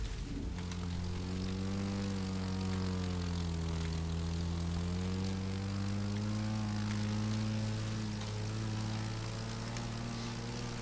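A propeller plane in the racing game The Crew 2 drones with a steady, loud engine hum whose pitch wavers slightly as it holds, continuous and alone without speech.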